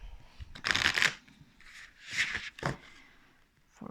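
Tarot and oracle cards riffled and shuffled up close in several quick bursts, each a crisp papery flutter separated by short pauses, no talking.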